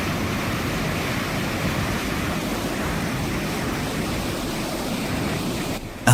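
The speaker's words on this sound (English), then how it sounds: "After heavy rain and strong winds, the Manum Falls awoke like a beast surging with unstoppable power." Manum Falls surges after heavy rain and strong winds, a steady dense roar of rushing water close by that runs unbroken to a brief bump at the end, with no voices.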